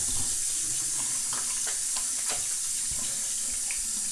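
Tap water runs steadily into a sink during a surgical scrub-in, a constant loud hiss throughout with faint splashes and small knocks mixed in, and no talking.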